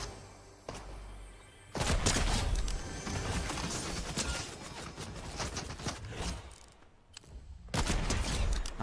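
Fortnite Chapter 2 match gunfire, a quick volley of loud, sharp gunshots, then a burst of fire with mechanical clicks and creaks, fading before one last loud shot near the end.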